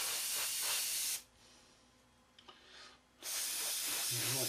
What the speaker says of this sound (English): So we'll respray this one as well.